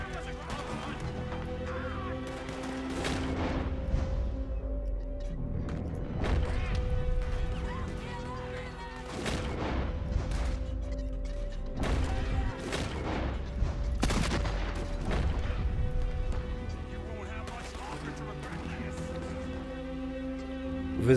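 Gunshots ring out in the Red Dead Redemption 2 video game, a long series of sharp, irregularly spaced shots over steady in-game background sound.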